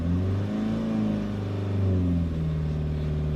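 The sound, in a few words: Renault Kangoo diesel engine revving under acceleration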